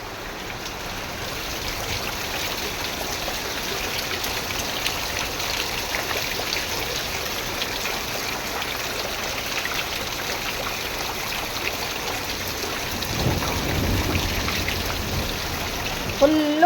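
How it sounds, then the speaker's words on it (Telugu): Heavy rain pours down steadily on a village home, a dense continuous hiss of drops with a brief swell of splashing near the end, no voices over it. "మా ఇంటైనైతే పోయిన వాన అయితే ఫుల్గా పడుతుంది మా ఊర్లో"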